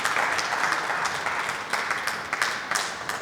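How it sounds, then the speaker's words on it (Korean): Audience applause at a professional three-cushion billiards match in Seoul, steady crowd clapping throughout with a few sharper bursts near the end, fairly close and dense. "관중분들의 박수 소리가 조금씩 조금씩 커져가고 있습니다."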